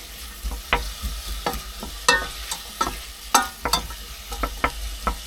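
Garlic fries in a pan aboard a boat: a spoon scrapes and clacks in irregular strokes over a soft sizzle and a low, steady rumble.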